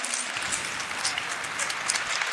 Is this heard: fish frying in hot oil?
no